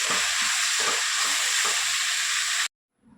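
Chutney ingredients fry in a pan, turning golden brown, with a loud, dense, steady sizzle and faint stirring scrapes underneath. The sizzle cuts off abruptly near the end, leaving near silence.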